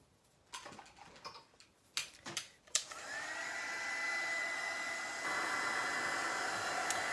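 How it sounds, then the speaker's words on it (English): A hair dryer starts up after a few clattering handling knocks and blows steadily at close range, aimed at the front of a mixed-media altered camera project, its whir stepping up in level partway through and continuing alone. "I was just going to dry the front a little bit so nothing will come off by accident"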